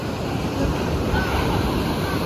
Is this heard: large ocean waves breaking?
yes